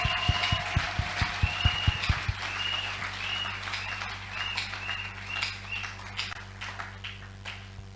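A church congregation breaks into rhythmic clapping, a quick run of sharp claps that fades into looser applause and room murmur, with faint birdsong outside.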